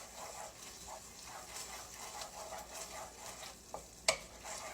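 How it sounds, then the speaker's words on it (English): A spoon stirs southern chili sauce mixed with tomato paste in a pot, soft repeated scraping and swishing strokes close up, with a faint simmer beneath and a sharp clink near the end. "Get you some tomato paste. Add 1 teaspoon. And then another. So 2 teaspoons altogether. Then we're going to mix."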